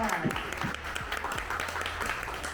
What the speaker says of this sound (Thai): Please give a hand to Mr. Kenny up on stage ขอเสียงปรบมือเลยค่ะ